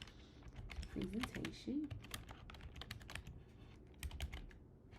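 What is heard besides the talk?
typing on a computer keyboard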